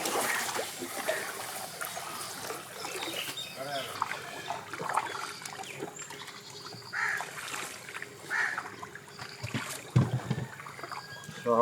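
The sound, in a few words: shikara boat moving on lake water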